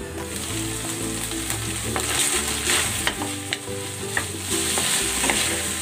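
Chopped vegetables and bachi beans frying in oil in a pan for lumpia filling, a steady loud sizzle with occasional stirring clicks and scrapes throughout.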